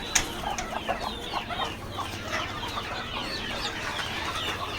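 Several native village chickens cluck and chatter continuously at close range, a busy overlapping flock sound with occasional sharper calls.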